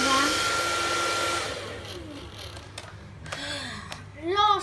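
A Tesco hair dryer whirs steadily as it's turned down, its airflow hum fading from a stronger rush to a softer low setting, with a few clicks and a voice talking near the end.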